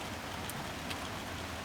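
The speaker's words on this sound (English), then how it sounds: "Hope you can hear the rain coming down in this van again." Steady rain drumming on the roof of a van, a continuous soft hiss with a couple of faint sharper drops, heard alone from inside.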